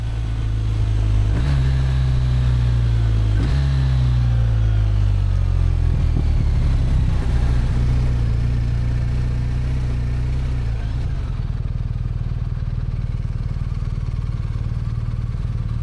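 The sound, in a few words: BMW R1250RT motorcycle downshifting with quickshifter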